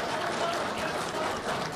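Comic expo crowd applauding during a mock trial, a brief dense burst of clapping and cheering with voices mixed in.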